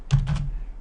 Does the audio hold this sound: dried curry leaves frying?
no